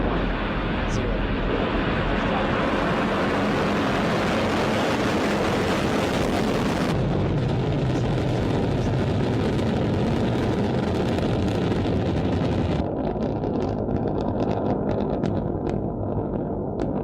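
A Falcon 9 rocket's engines at liftoff produce a loud, continuous broadband roar that rumbles without pause, then shifts and thins as the sound changes partway through.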